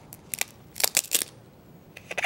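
Scissors trimming the end of paper on a kids' mini space shuttle craft, heard as a series of quiet crisp snips and crinkles in short bursts with a pause between groups.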